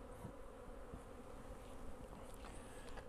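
Honeybees drone steadily at an outdoor hive, a continuous close buzz with individual insects passing near now and then, with no voices.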